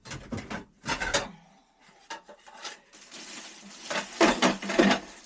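Dishes and crockery being loaded into a dishwasher: a series of close, sharp clatters and knocks in irregular bursts, with quieter handling between them and a busier run of clinks toward the end.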